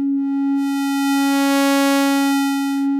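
A single sustained 8-bit chiptune synth note holds steady while its tone sweeps, brightening into buzzy upper harmonics midway and then thinning back out, loud and clean with no other sounds.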